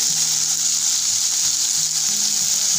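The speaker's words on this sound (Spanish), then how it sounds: "Y la vamos a dejar a que se dore nuestra carne." Carne asada seasoned with salt, pepper and a splash of lime juice browning in a pan, with a loud, steady, close sizzle throughout and no talk.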